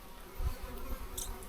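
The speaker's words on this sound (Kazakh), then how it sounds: "Мынандай қара шыбындар деген о." Black flies buzzing faintly around stored meat in a mountain storeroom, a soft, wavering drone with a brief louder pass, no voices.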